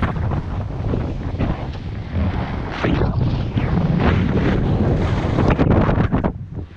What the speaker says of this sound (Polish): trzeba się schować, bo tam bardzo silno wieje